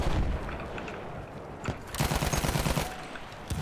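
Rapid bursts of automatic gunfire and suppressive fire in the Battlefield 1 video game, loud and close, with a dense volley in the second half and scattered single shots around it.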